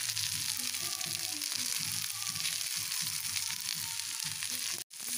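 An egg fries in a pan on the stove over a slow flame, seasoned with coarsely pounded pepper, giving a steady close sizzle and crackle that continues throughout with a brief break near the end.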